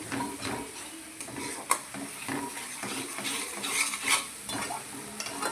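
Zunka being stirred in a frying pan, a soft sizzle underneath while the spoon scrapes and taps the pan in irregular strokes, with a few sharp clinks, fairly quiet and close.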